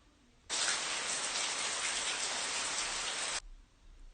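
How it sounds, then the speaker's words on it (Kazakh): Steady rainfall, a dense even hiss that starts suddenly and holds at constant loudness for about three seconds before cutting off. "жаңбырдың дыбысы."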